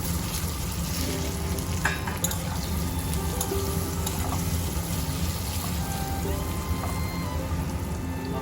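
Spices and cauliflower frying in hot oil with turmeric and dried chilli powder, giving a steady, dense crackling sizzle that holds evenly throughout, close up, with no one speaking.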